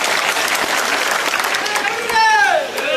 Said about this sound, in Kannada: ಈಗ ಚಪ್ಪಾಳೆ ಹೊಡೀರಿ